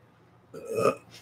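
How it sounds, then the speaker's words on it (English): A single loud, close burp from a person, lasting under half a second, with near silence before it and no talk. "I just burped."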